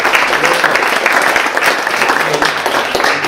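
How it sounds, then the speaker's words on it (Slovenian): An audience at a poetry book launch in Maribor applauds the five authors, with steady, dense clapping that stays loud and close throughout. "En aplavz za vseh 5 avtoric."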